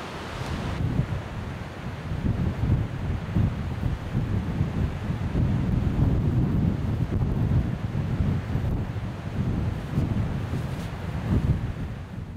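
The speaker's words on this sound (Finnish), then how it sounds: "se tuuli ei niin pahasti pääse puhaltaa" Strong, steady wind in the far north of Sweden, near Arjeplog, buffeting the microphone with a constant low roar, gusting slightly stronger at moments, with no voices.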